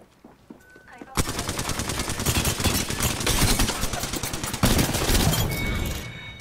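Golden Alternator submachine gun firing in rapid automatic bursts in Apex Legends, a dense, loud rattle that starts abruptly after a quiet moment and runs almost continuously, with a brief gap before the fire resumes.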